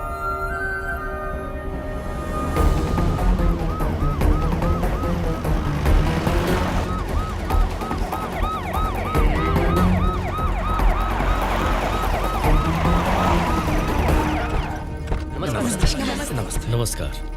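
An ambulance siren wails loudly and close in a repeating rising and falling pattern for over ten seconds, over traffic noise and with people talking around it.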